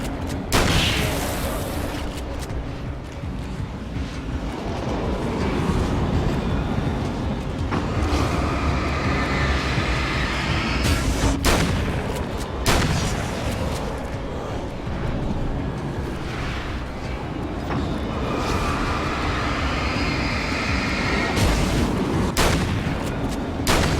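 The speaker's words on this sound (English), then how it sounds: "Several kinds of shotguns that don't really feel different." Repeated loud shotgun blasts in Alan Wake American Nightmare, heavy booming shots spaced irregularly over a dense, continuous din of combat noise.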